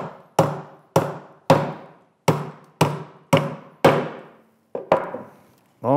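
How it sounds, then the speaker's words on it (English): A hammer strikes steel nine times to tack pieces before welding, each blow a sharp, close metallic thunk with a short ring, spaced roughly half a second apart with a brief pause near the end. "with the weight of the hammer, we can tack it"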